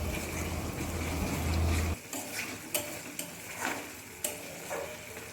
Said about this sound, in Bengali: এবার ভালো করে মশলার সাথে মিশিয়ে নিচ্ছি